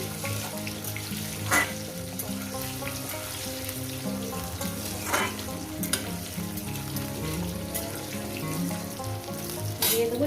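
Potatoes sizzle continuously in hot oil in a pan with salt and turmeric, cooked as part of a Bengali fish posto recipe. Occasional sharp clinks of a spatula stirring break through the steady frying.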